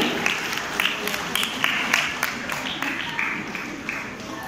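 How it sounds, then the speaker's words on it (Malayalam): Scattered applause from wedding guests greets a couple called to the stage at a Christian wedding, light uneven clapping at moderate distance under a hall's room noise. "കൈയടിക്ക്. നല്ല കൈയടി."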